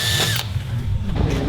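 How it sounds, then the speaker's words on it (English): A power drill spins a hole saw into a vehicle dash, with a short whining burst that cuts off, then low grinding and tool noise for a moment. "mark out the spots so we can drill them with the hole saws that were supplied"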